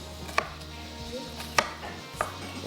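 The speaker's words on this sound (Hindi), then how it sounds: "चलें, प्याज को हम कर लेते हैं चॉप।" Onions being chopped with a knife on a board in a street-food setting, three distinct separate knife strikes over a low background hum.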